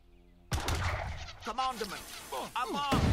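Booming cannon blasts in Age of Empires III, several heavy shots over continuous rumble, with bright whooshing and ricochet-like sweeps between them.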